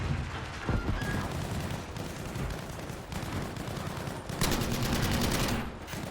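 Gunfire in the Battlefield V shooter rattles in quick bursts, mixed with broadband battle noise and a heavier volley near the end, all at fairly steady loudness.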